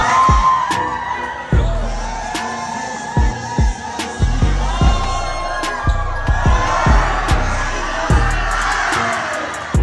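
A crowd at a basketball game shouts and cheers loudly in rising bursts, with sharp thuds and squeaks of play cutting through the noise at close range.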